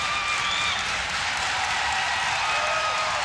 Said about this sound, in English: The crowd is into the game.